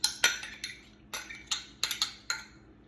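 A big metal spoon stirs muffin batter for a Raisin Bran muffin mix, making a run of sharp clinks and taps against the bowl at an irregular rhythm, close and moderately loud, with no talking.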